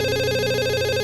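A telephone rings at a police station, a loud, steady electronic ring with a buzzing, harmonically rich tone that stays unbroken and close for the full second, with no voices.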